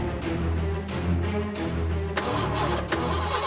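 A car engine cranks repeatedly without catching, a steady churning starter drone broken by a few sharp clicks and pauses, close and fairly loud.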